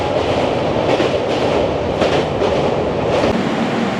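Passenger train running from Sealdah to Puri in India, its steady loud rumble and rhythmic rail clatter continuing without pause and close by, with no voices.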